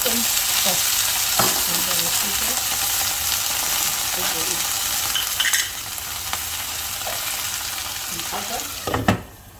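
Swanson soup hits a hot wok full of clams, setting off a loud, close, hissing sizzle with stirring scrapes and clinks that eases toward the end.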